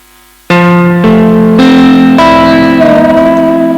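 Electric guitar strums ring out loud and sustained, a few chords played in sequence with a bright, processed tone after a moment of quiet.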